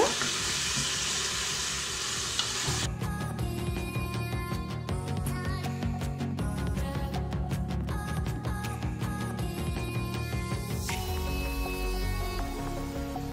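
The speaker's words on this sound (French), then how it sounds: "Là je vais mettre des oignons. Donc comme je vous dis, qui sont congelés et émincés dans les ingrédients au début. Je vais laisser cuire un petit peu." Frozen sliced onions dropped into a Cookeo multicooker, a loud crackling sizzle bursting in after a quieter start and continuing steadily with irregular pops and spits, fading slightly toward the end.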